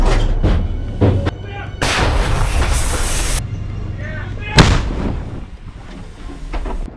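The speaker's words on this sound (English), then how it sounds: "Russian artillery opens up." Russian artillery fire booms heavily in a battle zone, with a sustained rumbling barrage, a hissing rush and a second sharp blast midway, loud and chaotic.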